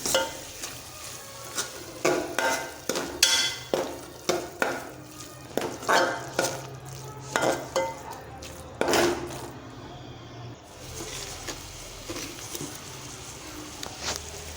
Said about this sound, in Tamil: இப்போ அதையும் சேர்த்துட்டு இந்த வெங்காயத்தை நல்லா வதக்கிக்கலாம்